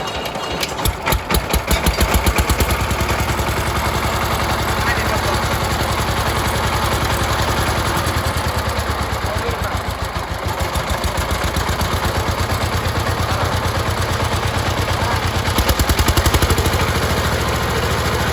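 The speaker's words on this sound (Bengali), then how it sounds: "এই ইঞ্জিনটা আপনাদেরকে এখন স্টার্ট দিয়ে ইঞ্জিনের সাউন্ড কোয়ালিটিটা শোনায়" An old Saifeng 16 horsepower diesel engine with a radiator fires up and runs with a loud, steady, rapid chugging pulse close by, slightly unsteady at first and then even throughout.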